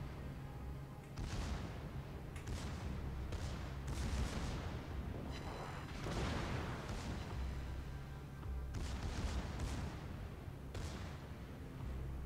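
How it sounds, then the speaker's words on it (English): Yamato battleship secondary batteries firing during a World of Warships battle, a continuous roll of overlapping booms and gunfire bursts at moderate distance with rumbling low-end, some volleys swelling louder, no talk. "Secondary batteries on the Yamato is quite good."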